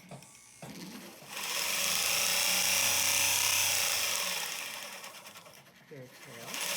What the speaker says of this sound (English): I'm sanding out my curve and just making a nice smooth curve.